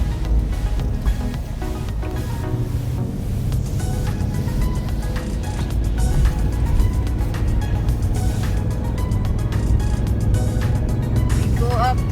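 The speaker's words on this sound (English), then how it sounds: "We're just driving here in the mountain of Salt Lake City." A car climbs a mountain road near Salt Lake City, Utah. Its engine and tire rumble run as a steady, close drone throughout, with voices talking over it.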